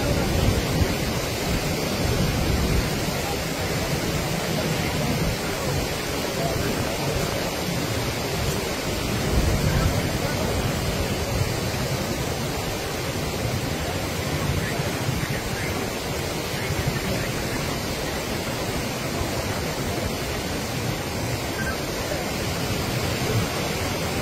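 Munneru river floodwater surges past Prakash Nagar in a steady, loud, broadband rush that roars continuously from start to finish, with no voices.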